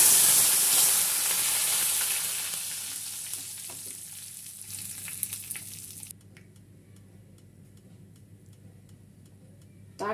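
Curry leaves and mustard seeds crackle and sizzle loudly in hot oil as a tempering for banana flower chutney, a bright steady hiss that drops suddenly to a faint, sparse crackle halfway through.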